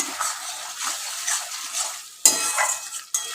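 Chicken marinated in ground mango fries in oil while being stirred, giving a close, loud sizzle broken by scraping strokes and two sharp clanks of a utensil against the pan.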